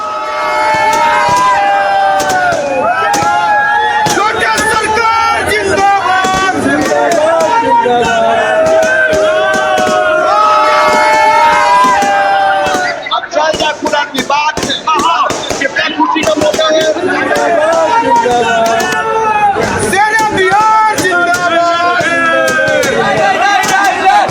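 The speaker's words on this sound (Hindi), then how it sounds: "अनंत सिंह बाहुबली जब अपने आवास पहुंचे हैं, तब देखिए हजारों की भीड़" A dense crowd of thousands of supporters cheers and shouts outside Anant Singh's residence, loud and continuous, with overlapping voices, bursts of noise and scattered sharp knocks.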